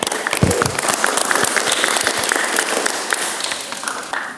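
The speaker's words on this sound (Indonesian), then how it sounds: "Tepuk tangan dulu untuk kita semuanya." Applause from a class of automotive vocational students after a lesson on conventional ignition system inspection, a steady indoor clatter of many hands lasting several seconds with some stronger claps standing out near the start.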